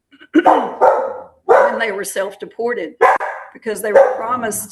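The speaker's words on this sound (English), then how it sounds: "I'm sorry about my dog." A dog barks and yips repeatedly in short bursts, fairly close and loud, overlapping a person speaking steadily throughout.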